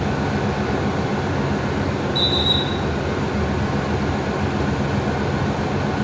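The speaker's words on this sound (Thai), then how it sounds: "ขบวนรถโดยสารธรรมดาขบวนที่ 463 463 ต้นทางจากสถานีพัทลุง" Ordinary passenger train number 463 at a station, a loud, continuous rumble of rolling rail cars with a brief high wheel squeal in the middle; no talk.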